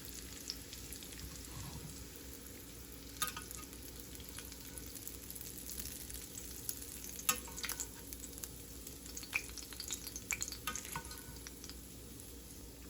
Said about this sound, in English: My sausage is almost done cooking.